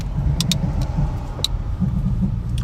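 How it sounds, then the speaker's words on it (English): Steady low engine and road rumble from inside a car on a delivery drive, heard continuously and fairly close, with a few faint clicks on top. "This is a nice car that we're driving."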